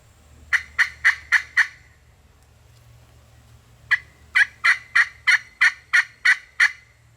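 Osceola wild turkey gobbling in the Florida woods, two bursts of rapid repeated gobbles, a short run of five and then a longer run of about nine, fairly close and loud over a low steady background hum.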